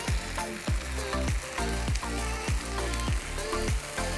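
Tomatoes hit a hot frying pan of leftover rendang gravy for pasta. A loud, dense sizzle runs throughout, with regular rhythmic thumps or scrapes close by.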